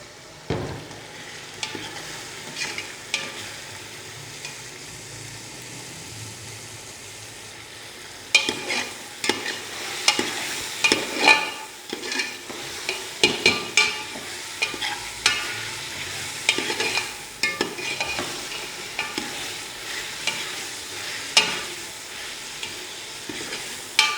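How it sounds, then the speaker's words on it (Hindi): Coarse minced keema for aloo keema stirs and fries in a pan, a steady sizzle under repeated scraping and clattering spoon strokes that grow busier and louder partway through, with no talking. "कीमे की जो है अच्छे तरीके से बुनाई करेंगे"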